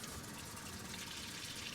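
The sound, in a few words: water running through RV tankless water heater tap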